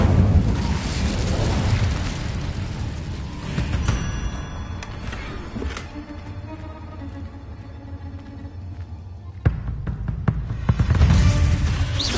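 In Hogwarts Legacy, an Incendio fire spell bursts out with a loud, roaring whoosh and rumbling boom, then a crackling tail that fades before a second fiery burst near the end.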